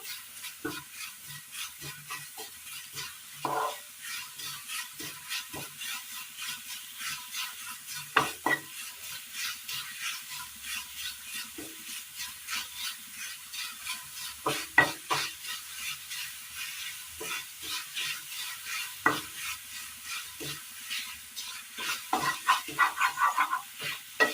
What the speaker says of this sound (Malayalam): നന്നായി ഇളക്കി കൊടുക്കണം.